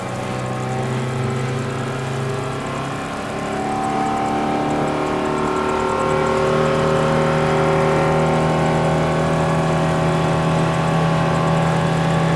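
The engine of a shrimping boat runs hard at full throttle, a steady droning roar with layered harmonic whine that swells slightly louder midway and holds there, with no talking.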